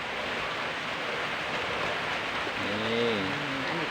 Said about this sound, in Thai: ฝนมันตกนะจ๊ะ